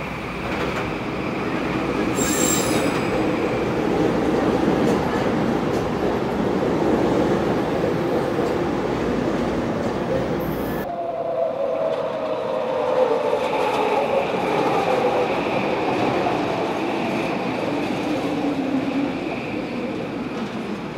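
Mark II SkyTrain cars with Bombardier MITRAC IGBT VVVF traction motors, running steadily with loud, continuous rail rumble and a deeper motor whine, shifting in tone partway through as wheels squeal faintly.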